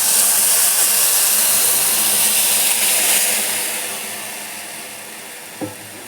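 Tamarind juice is poured into a pan of cooked onions while making a tamarind gojju, giving a loud steady sizzle and hiss that slowly fades as the liquid settles, with a small clink near the end.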